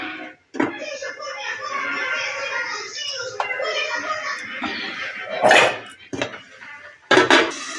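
A pot of banana flower dal (mocha dal) is covered with its lid, giving a few sharp metallic clanks and clatters spread over several seconds, with a murmuring background between the knocks.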